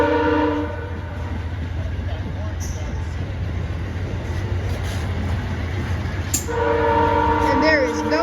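Passenger train passing in Maine, heading toward Brunswick: a steady rumbling roll of wagons with a loud sustained horn blast at the start and again near the end, heard from trackside.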